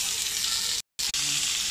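Chopped shallots and tomato hit hot oil for a village-style sundakai puli kulambu, giving a loud, steady, close sizzle broken by one short silent gap partway through.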